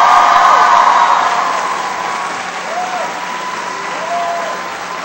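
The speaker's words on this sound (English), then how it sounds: "Please give her a big round of applause." An audience at a public event breaks into loud, sustained applause with some cheering, a dense wash of clapping that stays strong for several seconds and eases slightly toward the end.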